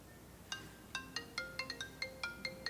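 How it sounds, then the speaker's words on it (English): A phone's electronic ringtone plays a short melody of crisp, rapid chiming notes in an even rhythm, fairly soft and a little distant, with no talking. "It's a ringtone."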